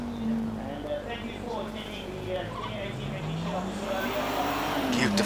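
A 12-cylinder race car engine drones and rises in pitch as it accelerates at the 2018 Simola Hillclimb, heard from a distance under commentary voices.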